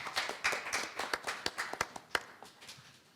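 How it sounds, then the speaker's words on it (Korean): A small seminar audience claps to welcome a discussant, sparse, distinct individual claps in an uneven rhythm that thin out and fade within a few seconds. "박수 부탁합니다."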